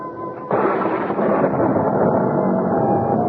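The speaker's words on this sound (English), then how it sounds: "I was startled by an enormous thunderclap, followed by the wrenching split of wood." A thunderclap sound effect from a radio mystery drama bursts in loud after a short hush and rolls on as a sustained, heavy rumble to the end, with no voices.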